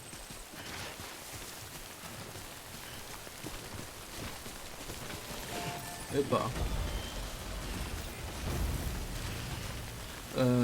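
Steady rain falling in the video game Death Stranding, a continuous close hiss that runs throughout with a louder rumble near the end, while someone speaks briefly over it.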